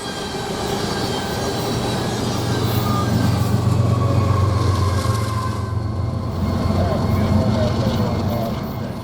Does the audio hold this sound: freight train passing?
yes